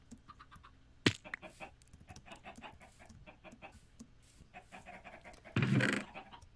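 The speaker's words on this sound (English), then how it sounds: "Here's the world's least efficient egg farm, but 2 chickens in it." Chickens in the video game Origins Hardcore cluck in soft, scattered bursts close by, with a sharp click near the start and a louder rustling flurry toward the end.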